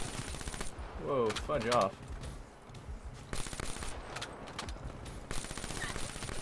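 Automatic gunfire in Black Ops 3 rattles in short bursts under a player's excited talk and game sounds, steady and mid-level throughout.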